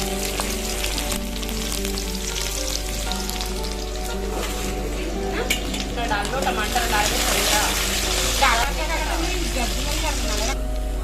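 Spices, dried red chillies and onion sizzle and crackle in hot oil for a greens and chana dal tempering, a steady frying hiss with occasional stirring noises and a voice speaking over it.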